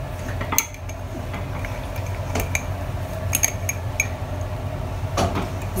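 A chocolate mug cake is worked out of its mug onto a plate, with scattered clinks and light scrapes of a spoon against ceramic, close and sporadic, alone without talk.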